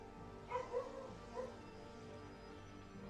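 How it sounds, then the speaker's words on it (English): A dog barking faintly in the background, two or three short yips and barks within the first second and a half, then only steady hum. "What is my dog barking at now?"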